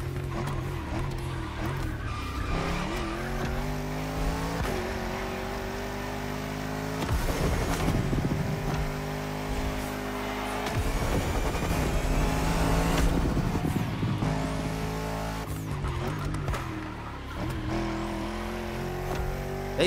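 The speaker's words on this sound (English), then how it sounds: "They did a really good job with engine sounds." Race car engines in The Crew Motorfest, a Lamborghini racing game, roar continuously for about twenty seconds, revving up and down through gear changes with loud surges and occasional tire skids, with no voices over them.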